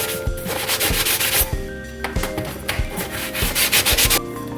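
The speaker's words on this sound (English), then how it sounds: "polishing these pieces." Mastermorphix puzzle pieces being polished by hand, a dense run of rough rubbing strokes in quick uneven bursts, close and loud, with a few short pauses between passes.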